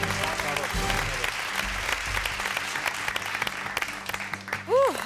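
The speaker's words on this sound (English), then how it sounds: "And of course, big applause for Teo!" Applause for a contestant in a televised classical music semifinal, clapping steadily under a host's voice and musical tones for about five seconds.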